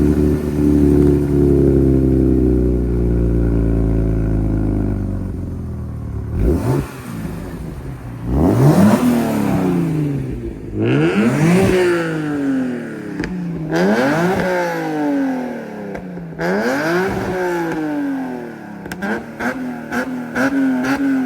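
A loud car engine with water in its exhaust revs hard in repeated rising bursts, each climb dropping back before surging again, with a harsh, crackling exhaust tone.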